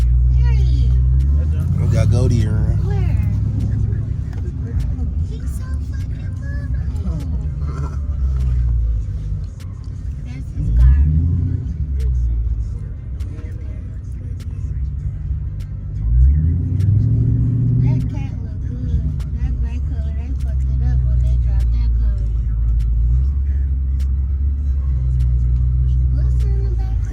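Car engines revving at a car meet with rev battles, deep rumbling idles swelling into repeated loud revs and roars, close by, with people talking and shouting throughout.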